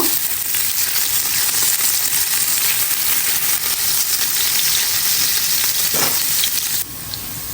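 Chopped garlic frying in hot oil in a frying pan, a loud, dense, continuous sizzle with a brief stir or knock toward the end as the sound drops slightly.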